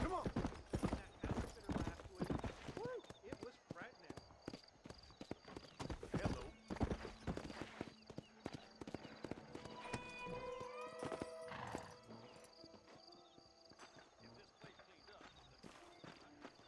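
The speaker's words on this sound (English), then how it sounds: "I thought that was my horse." Horse hooves clip-clopping in the Red Dead Redemption video game, a steady rhythmic walk with a whinny partway through, heard under talk and game sounds before fading to quieter ambience.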